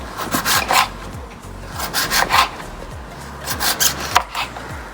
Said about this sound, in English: Cut all the eggplants.